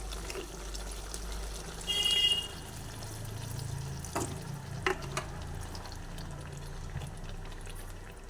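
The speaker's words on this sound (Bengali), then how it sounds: "যদিও আলু সেদ্ধ হয়ে গেছে এভাবে ফুটবে দু তিন মিনিট" Potato curry with eggplant and capsicum simmers and boils in a pot of added water, giving a steady low bubbling with a brief louder burst of sputtering early on.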